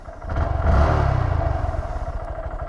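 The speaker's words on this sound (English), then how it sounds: "we're gonna head off on this little Honda Grom. As soon as it warms up, this thing's got a weird idle" A small Honda Grom motorcycle idles while warming up, a close, lumpy putter with an uneven beat that swells briefly and then settles.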